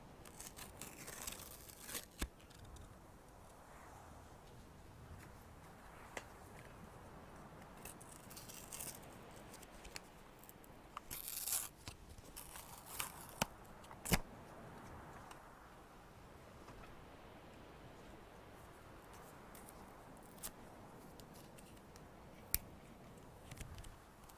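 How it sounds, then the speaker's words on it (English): A cardboard box being broken apart and torn, giving scattered tearing and crinkling bursts with sharp snaps, quiet and close throughout with no talking. "I'll just break the entire box because I want to hear some paper tearing"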